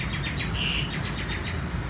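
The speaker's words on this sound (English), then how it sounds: "Currently right now he has a bird nesting on his head." A bird nesting on a stone monument in Phnom Penh chirps in rapid repeated tweets, moderately near, over a steady wash of city traffic noise.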